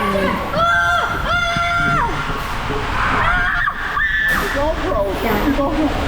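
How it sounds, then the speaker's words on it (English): Water shooting and splashing on a resort waterslide at Baha Mar in the Bahamas, a loud continuous rush and slosh with excited voices and shrieks layered over it. "it shoots water at you"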